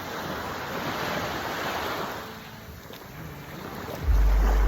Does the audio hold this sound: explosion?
no